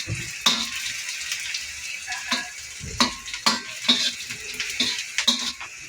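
Garlic fries in a pan for tofu sisig, with a soft sizzle broken by repeated clinks and scrapes of a utensil stirring against the metal.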